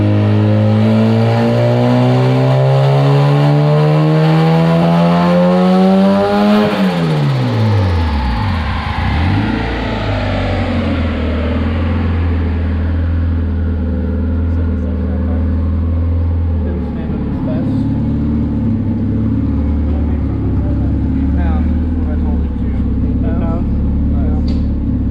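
Turbocharged EG car running on a dyno, its engine revving hard with a rising howl that cuts off sharply, then settling into a loud, steady idle rumble.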